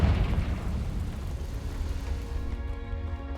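A Confringo fire-blast spell goes off in the game Hogwarts Legacy: a heavy, rumbling boom that rolls on as a dense low roar, then settles into a fading, ringing tail.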